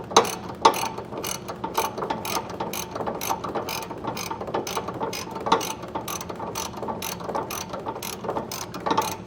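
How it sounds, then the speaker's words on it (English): A 15/16 inch ratcheting wrench snugs down an air helper spring fitting on a 2023 Ford F-250, with rapid, steady clicking of the pawl repeating in close bursts throughout. "a 15/16 inch ratcheting wrench will make this easy to snug down"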